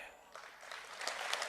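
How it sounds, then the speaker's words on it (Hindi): A large audience at a political speech in Godhra applauds, a soft, distant wash of clapping that swells slightly toward the end, with faint crowd noise beneath. "आपकी तालियों की गड़गड़ाहट"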